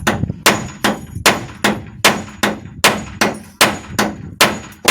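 A hammer drives nails with a steady rhythm, about a dozen sharp metallic strikes roughly every half second, loud and close with nothing else heard.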